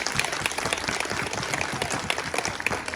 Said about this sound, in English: Let me hear you clap your hands like a Jamaican.